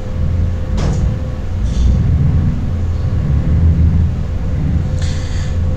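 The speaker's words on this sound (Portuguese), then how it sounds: "o som com os vidros fechados sai bem abafado, porque o motor desse carro é traseiro" Muffled rear-engine drone of a Scania K113 bus, a Marcopolo GV 1450, heard from inside with the windows closed in a simulator sound mod: a steady low rumble throughout, with a few brief higher rattles or hisses.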